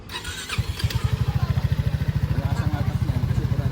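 A motorcycle engine runs close by with a fast, even pulsing beat that picks up and holds steady, while voices talk over it.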